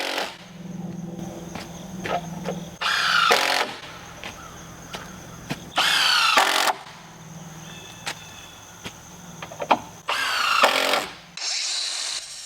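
Power drill driving screws into a unistrut frame for a solar array, heard as several short whirring bursts of a few seconds each, separated by quieter gaps with light clanks and handling noise.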